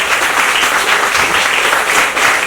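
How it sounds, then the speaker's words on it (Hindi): A Hindi poetry gathering bursts into sustained audience applause, many hands clapping in a dense, even wash that holds steady throughout. "तो इतनी कमजोर तालियों के साथ"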